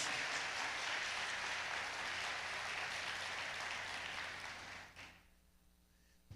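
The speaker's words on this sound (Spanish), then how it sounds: "Dale fuerte ese aplauso, vamos." Church congregation applause during a Spanish-language sermon, a dense wash of clapping that holds for about five seconds and then fades out abruptly into quiet room tone.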